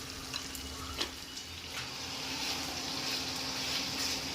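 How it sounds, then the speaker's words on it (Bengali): Chicken with slit green chillies sautés in a pan for a chicken dish, giving a steady, moderately quiet sizzle with a couple of faint utensil taps early on and a low hum underneath. "এবার কয়েক টুকরো চেরা কাঁচা লঙ্কা দিয়ে আবার ভালো করে একটু কষিয়ে নেব"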